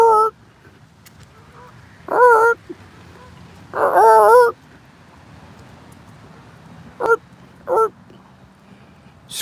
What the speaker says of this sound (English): There's a lot of geese on the river. Making squawking noises.